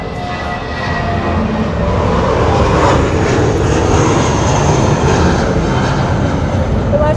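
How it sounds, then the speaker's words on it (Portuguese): An airplane passes low overhead, a broad, loud roar of jet or propeller engine noise that swells within the first second and then holds steady and close for several seconds. "Sensacional o avião. Achei que ele fosse aterrissar."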